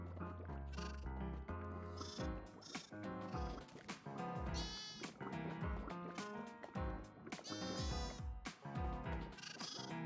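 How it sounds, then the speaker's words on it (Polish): Minecraft sheep bleat repeatedly in short wavering calls, several in quick succession, over a busy layer of music and game sounds at a quiet overall level. "Czas na nasze sławetne owce terrorystki."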